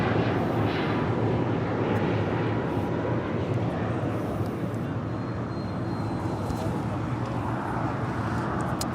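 A plane takes off from runway 25 right at Los Angeles International Airport, its jet engines giving a loud, broad, sustained roar that stays steady for the whole stretch, with faint speech mixed underneath.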